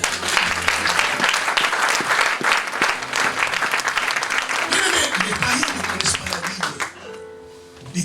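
Congregation applause at a church service fills the space, a dense sustained clapping with some crowd noise that fades out near the end.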